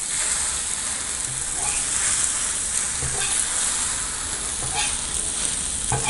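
Egg mixture fries in oil in a pan while being stirred, giving a dense, continuous sizzling hiss with faint scraping strokes underneath, close and steady throughout.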